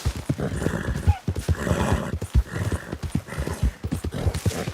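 Horse hooves clip-clop in Red Dead Online, a steady rhythmic trot of close, fairly loud hoofbeats with a brief whinny mixed in, no talking over it.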